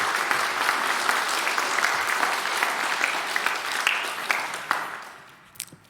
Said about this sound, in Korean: 감사의 박수로 보내드리도록 하겠습니다